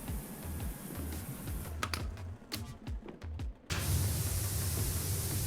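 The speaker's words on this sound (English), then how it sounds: "I do prefer using the old sprayer with the variable spray" A pressure washer sprays continuously in the video game Power Wash Simulator 2, a steady hissing rush that briefly drops out with a few clicks before resuming at full force.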